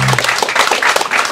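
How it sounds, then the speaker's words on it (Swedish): A theatre audience gives the musicians a short burst of applause, a brief, dense patter of many hands clapping. "Och även en liten applåd till musikerna."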